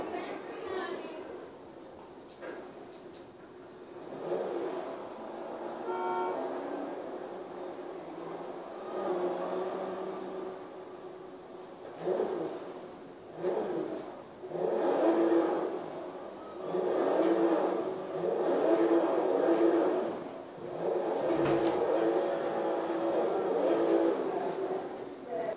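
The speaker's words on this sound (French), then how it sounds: "elle fait presque le même bruit que la voiture de Michael" A car engine in the video game GTA V revs repeatedly, rising and falling in moderate bursts while someone talks over it.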